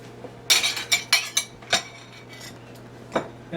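Metal serving utensils clink and scrape against a dish while turkey and dressing is served, a burst of quick bright clinks followed by a few isolated taps, close and clear with no talk.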